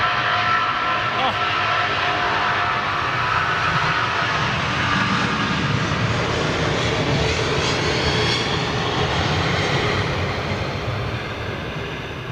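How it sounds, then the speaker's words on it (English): Boeing 787 Dreamliner landing on runway 27 left at Heathrow in thick air, a loud, continuous engine roar that stays close and powerful throughout, easing slightly toward the end. "The air is so thick that you're getting that really nice, noisy engine note."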